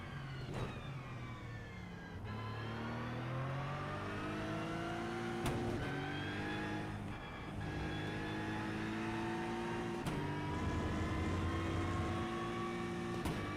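A race car laps Hockenheim in the iRacing simulator, its engine droning steadily with rising and falling pitch as it accelerates and shifts gears, loud and close throughout with no talking.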